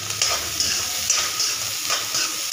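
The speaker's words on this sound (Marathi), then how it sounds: "एकदम व्यवस्थित कांदा भाजून घ्यायचा." Chopped onion fries in a pan for Jammu-style rajma, giving a steady, close sizzle with soft scraping strokes of stirring repeating through.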